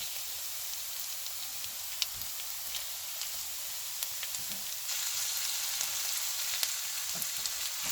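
Onion frying in a pan for sesame chicken with carrot, a continuous dense sizzle heard up close with a few faint stirring ticks, growing slightly louder partway through.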